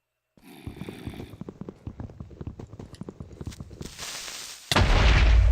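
A Minecraft Creeper explosion: rapid rhythmic thuds build for a few seconds, then a sudden loud burst of broadband noise lingers to the end, close and dominant.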